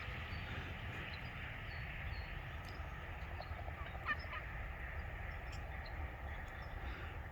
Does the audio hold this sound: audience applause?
no